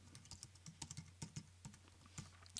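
A file name being typed on a computer keyboard, soft irregular clicks of separate keystrokes in quick bursts, faint and close, with no voices.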